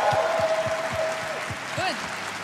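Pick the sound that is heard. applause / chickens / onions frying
applause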